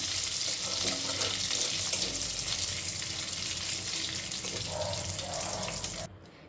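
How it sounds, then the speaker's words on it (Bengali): Bay leaf and dried red chilli fry in hot prawn oil for a ridge gourd prawn malai curry, giving a loud, steady, crackling sizzle that cuts off abruptly just before the end. "চিংড়ি মাছ ভাজা তেলের মধ্যে দিয়ে দিলাম তেজপাতা আর শুকনো লঙ্কা"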